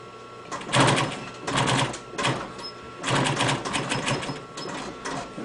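A sewing machine stitching part of a goalie blocker, running in several loud bursts of fast rhythmic needle clatter with short pauses between them, with no one speaking.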